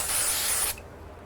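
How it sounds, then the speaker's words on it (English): A can of spray adhesive hisses steadily onto the back of a piece of white craft card, a close, loud burst of under a second that stops abruptly, leaving quiet room tone. "Use a bit more spray on the back here."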